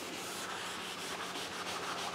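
Scotch-Brite abrasive pad, about 360 grit, scrubbing a panel van roof panel, producing a continuous close rubbing hiss with a slight back-and-forth pulse, heard alone.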